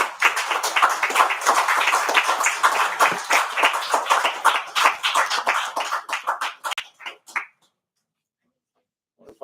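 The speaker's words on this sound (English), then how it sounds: "If I'll get an applause like that one day" Audience applause at a city council meeting, dense crowd clapping that thins into scattered claps and stops after about seven seconds, followed by near silence.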